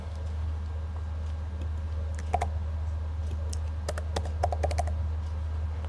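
Keys clack on a computer keyboard as Python code is typed, a few scattered bursts of clicks over a steady low hum, fairly close and moderate in level.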